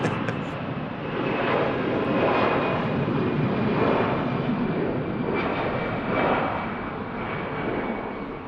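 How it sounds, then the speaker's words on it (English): An easyJet airliner takes off at Manchester Airport, its engines giving a loud, sustained roar that stays steady throughout. "EasyJet rotates, and we have a Ryanair on the taxi."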